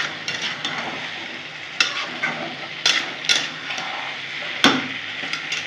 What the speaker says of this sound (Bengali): একটু নেড়ে চেড়ে নেব, ভালো করে মশলার সাথে মিশিয়ে নেব